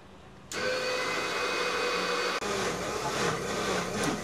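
A mixer grinder starts abruptly and runs with a loud, steady whirring roar while coarsely grinding coriander for paani puri water, briefly cutting out midway before resuming, with no talk.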